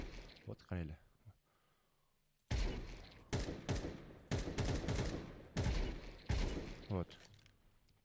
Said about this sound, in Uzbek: o'tiramiz va mujallab otamiz